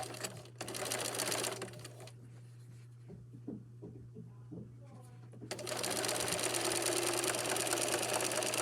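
A sewing machine stitches straight across a seam in two close, steady runs of rapid mechanical chatter, separated by a pause with faint handling noises, over a constant low hum.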